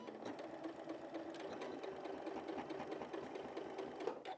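A sewing machine stitching binding onto a quilt, a steady close mechanical whir with rapid needle clatter running continuously for a few seconds, with no talking.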